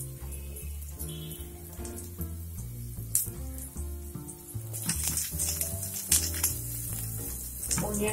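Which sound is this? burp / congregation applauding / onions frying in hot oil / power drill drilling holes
onions frying in hot oil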